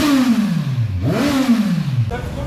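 A Kawasaki Ninja 1000 fitted with an Akrapovic aftermarket exhaust drops in pitch, then revs sharply upward and settles back down, a loud, close, throaty engine note with slight rattle.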